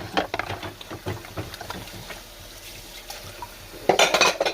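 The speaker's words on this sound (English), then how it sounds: "I'm just trying to get the easiest dishes done and then let the other ones soak." Dishes being washed by hand in a kitchen sink, with repeated clinks and clatters of plates, pots and cutlery amid running, splashing water, close by and fairly busy, with a louder burst of splashing near the end.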